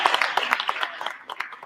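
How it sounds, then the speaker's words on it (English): Applause for students at an awards ceremony: a room of people clapping in uneven, overlapping bursts, fairly close and lively, gradually thinning toward the end. "let's give a big round of applause for all the hard work of all the students involved in the program"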